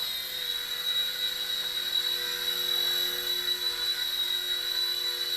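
Silverlit Spy Cam II small RC helicopter in flight, a continuous high-pitched electric motor whine with a steady buzzing hum, close and unbroken.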